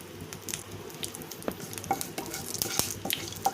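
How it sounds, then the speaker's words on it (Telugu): A tempering of mustard seeds, cumin, chana dal, a dried red chilli and curry leaves fries in oil in a pan, a soft close sizzle broken by irregular sharp pops and spatters. "పోపు కోసము ప్యాన్ పెట్టుకొని ఆయిల్ వేసుకొని అందులోకి ఆవాలు జీలకర్ర పచ్చిశనగపప్పు ఒక ఎండుమిర్చి కొంచెం కరివేపాకు"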